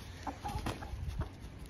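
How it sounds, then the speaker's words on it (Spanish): A black rooster clucks faintly in a chicken coop shared with ducks, a few short low clucks over steady background hiss, with no talk. "Ese gallo negro está buscando pelea"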